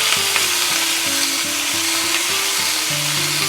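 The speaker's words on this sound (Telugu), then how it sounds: "దీంట్లోనే సన్నగా తరిగిన పచ్చిమిరపకాయలు, కరివేపాకు" Green chillies and curry leaves frying in a hot tempering for a papaya and chana dal curry, a steady close sizzle with faint stirring scrapes throughout.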